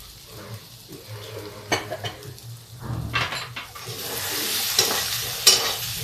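Potatoes and spinach fry in a pan while a utensil stirs and scrapes them, giving irregular clinks and bursts over a rising, close sizzle.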